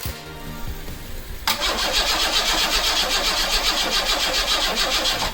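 A Pontiac Fiero engine cranks but fails to start: first a sputtering, uneven mechanical churn, then a loud, steady, whirring crank that continues without catching, close and alone.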